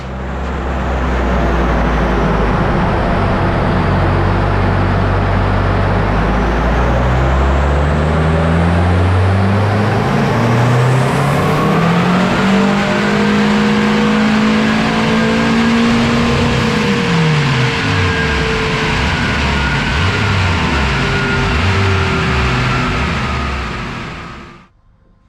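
A Renault 5 GT Turbo C1J engine fitted in a van revs hard on a dyno, loud and close, the engine note sweeping up through the range with boost, holding high, then dropping back and cutting off at the end.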